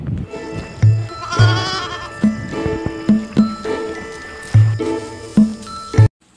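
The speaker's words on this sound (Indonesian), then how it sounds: "melihat seekor anak kambing yang terjebak" Repeated bleating from a trapped young goat, several short calls spaced through the clip over a steady background hum, close and fairly loud.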